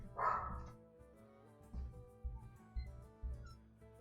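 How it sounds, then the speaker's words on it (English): A dog barks at a visitor at the house door, giving a short run of four or five sharp barks at a steady pace. The barks are moderately loud and come from somewhat off in another room, with no talking. "Why is my dog barking again?"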